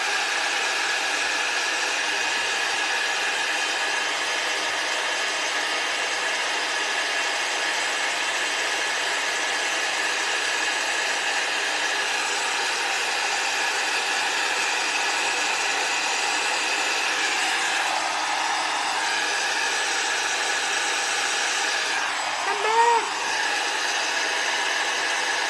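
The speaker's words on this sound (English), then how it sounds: "Let's grab our heat tool." A heat tool used for heat embossing a card blows with a steady, even electric whir and hiss, continuous and close, with a brief shift in pitch near the end.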